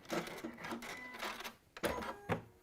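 A sewing machine running a few short stitches on a fabric end, quick mechanical whirring bursts in brief spurts with gaps between, close and fairly quiet.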